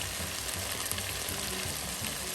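Ginger goes into garlic frying in a pot, and a loud, dense sizzle hisses steadily up close without pause and with no voices.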